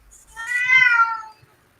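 A single cat meow, drawn-out and tonal, rising then falling over about a second, loud and close with no talk around it, played as a clue in a Disney movie trivia game.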